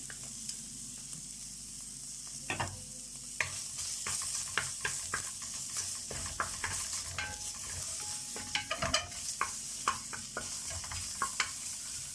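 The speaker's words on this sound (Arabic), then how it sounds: "بدات تسيح معانا، هنزل كده بالمسكه والحبهان اهو" Fat melts and sizzles in a pan as mastic and cardamom go in, a constant close frying hiss broken by scattered clicks and scrapes of stirring, with no voices.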